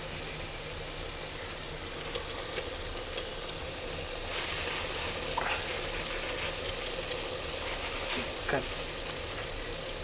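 Chicken frying in masala and oil, a soft continuous sizzle with a few light clicks and clatters, fairly quiet throughout.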